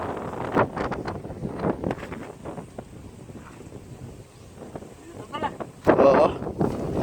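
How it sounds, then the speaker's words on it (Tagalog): Strong sea-shore wind buffets the microphone in uneven rumbling gusts, with a louder blast near the end, while people talk nearby. "Lakas pa yung hangin."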